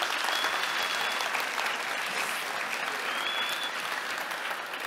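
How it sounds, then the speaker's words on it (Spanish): Sustained, even applause from an audience at a morning presentation event for a technology gathering, filling the whole stretch at a steady level. "para ellos un aplauso"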